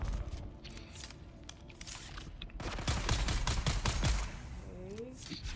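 Explosions and gunfire in the Dune Awakening video game form a dense crackle of rapid shots, rising in a louder burst midway and continuing under faint background talk.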